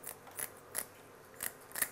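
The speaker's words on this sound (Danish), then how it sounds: "Og det er bare en ganske almindelig saks." Ordinary household scissors snip the fins and tail off a cod, giving four or five sharp, close clicks spaced irregularly over a quiet background, with no talk.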